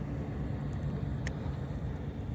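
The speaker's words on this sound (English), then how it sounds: "I hear a car or a truck behind us on the road." A car or truck passing on a road behind the listener outdoors, a steady low rumble of moderate loudness with no talking.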